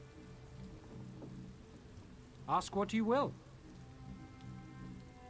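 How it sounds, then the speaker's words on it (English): Steady rain falls in an Elder Scrolls Online storm, a soft continuous hiss across the whole stretch, while a voice speaks briefly over it. "I could do without this damnable rain. It's been storming since we arrived,"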